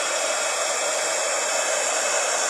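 Heat tool for silver embossing on a candle blows with a steady, loud, close rushing whir that holds unbroken throughout, with no talk.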